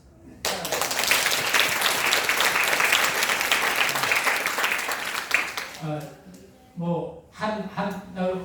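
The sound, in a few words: applause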